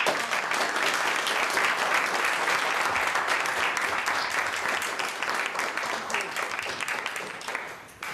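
A large crowd applauds loudly and steadily at a guest lecture in Abu Dhabi, a dense wash of clapping that fades slightly toward the end.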